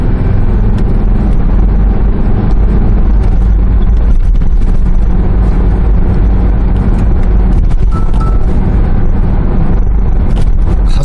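A 2003 SsangYong Rexton climbing a hill, its engine giving a steady low drone with road and wind noise throughout, heard from inside the cabin with no talking.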